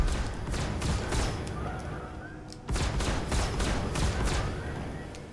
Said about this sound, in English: Okay, I got the missile going.